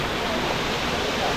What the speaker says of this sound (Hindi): और इधर झरना, झरने का पानी